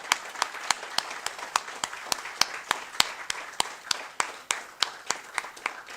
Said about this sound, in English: a big round of applause for all the student volunteers who are here today